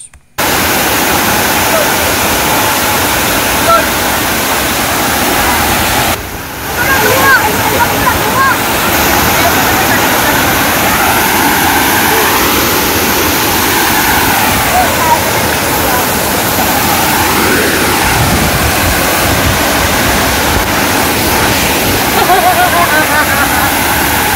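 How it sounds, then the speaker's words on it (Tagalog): Tamaraw Falls in Puerto Galera, Oriental Mindoro, Philippines, pours with a loud, continuous broadband roar close by, steady throughout apart from one brief dip early on. "Ito yung Tamarao Falls."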